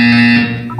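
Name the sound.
buzzer in the Portal 2 video game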